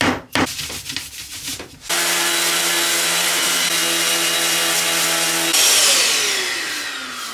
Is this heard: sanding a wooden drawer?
yes